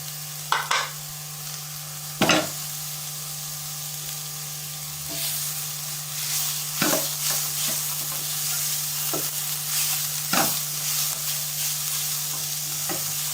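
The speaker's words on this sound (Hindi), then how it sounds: "बस इसको 1 से 2 मिनट में फ्राई करूंगी" Chicken frying in a pan sizzles quietly and steadily, with a constant low hum underneath and several sharp stirring clinks and scrapes spread throughout.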